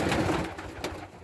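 White pigeons or doves in a loft giving low, soft cooing calls, with a steady rustling background and a brief louder note near the end.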